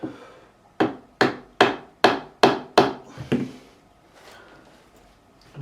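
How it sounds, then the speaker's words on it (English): Six or seven sharp, evenly spaced taps from the nylon face of a fretting hammer on a guitar nut of a Fender American Standard Stratocaster, close and crisp, then quiet. "Just need to tap that just a little bit, just to knock it across a tiny bit. Again, using the nylon side of my fretting hammer."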